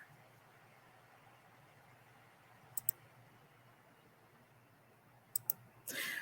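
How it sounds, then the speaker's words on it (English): A computer mouse clicks twice in quick pairs, two faint, crisp double clicks a few seconds apart over a quiet hum, followed by a short burst of louder noise at the end. "I'm going to go ahead and click on this"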